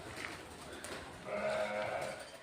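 One drawn-out sheep bleat rises midway through a quiet farm shed, moderately close, against a low, faint background hum with no clear talking.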